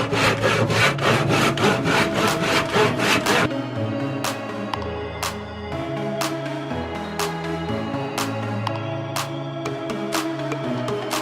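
A handsaw cuts through a wooden 2x4 in fast, even rasping strokes at first, then slows to a few slower strokes with scattered knocks and scrapes of the wood, all close by.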